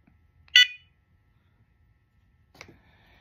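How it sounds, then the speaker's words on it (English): Dogtra 2700T&B pointer dog collar sounding its locate beeper, two short sharp electronic beeps about two seconds apart, the first louder, the second fainter, in an otherwise quiet setting. "To test it, you can press the locate."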